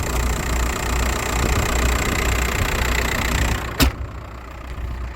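A Volkswagen car engine idles with a steady, close rumble, broken by a sharp click near the end, after which the hum drops quieter.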